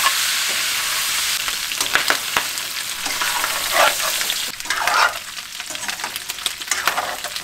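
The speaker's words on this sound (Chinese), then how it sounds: "开始煸那肉，少放点油， 把这个里边的水分一定要把它煸出来" Pork belly sizzles hard in a little oil in a wok, a steady crackling fry broken by scraping stir strokes and occasional louder spatters.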